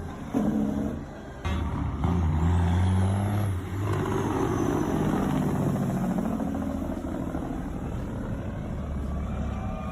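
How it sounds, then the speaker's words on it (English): Heavy truck engine rumbling close by with tonal whines and rising pitch, a sharp air-brake hiss burst early on, steady loud engine drone continuing throughout without talk. "That man loves his fucking truck."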